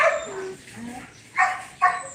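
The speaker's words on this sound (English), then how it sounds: "You guys want to hear the dogs get wild?" Several dogs barking and yipping outdoors, a few short bursts spaced across a couple of seconds, moderately close.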